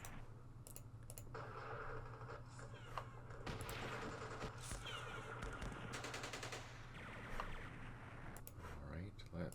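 Rapid bursts of gunfire from a Vietnam-era war strategy game, Campaign Series Vietnam, with repeated sharp shots and machine-gun rattles over a low steady background hum.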